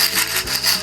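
Loose marbles roll and rub together, giving a fast, scratchy, rattling wash of sound close by for under a second, with no voices.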